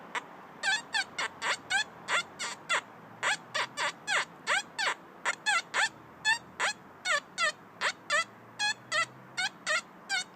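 A metal detector scanning a cellar hole site signals iron with a dense run of short, chirping squeaks in quick irregular rhythm, close and clear with no talk.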